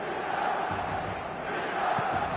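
A football stadium crowd in a video game match produces a low, distant, continuous roar that holds steady and quiet with no clear peaks.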